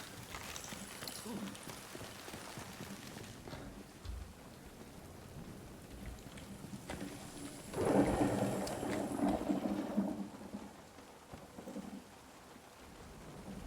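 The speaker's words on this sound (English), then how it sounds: "That hail was doing damage to me" Hail pelts down in the video game Nightingale, a dense, continuous patter with a low rumble, swelling into a heavier, louder burst midway before easing off.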